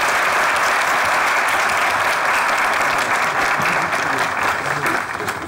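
An audience at a comedy show's New Year special applauds a dance group with loud, dense, sustained clapping. It stays strong for about five seconds and eases slightly at the end.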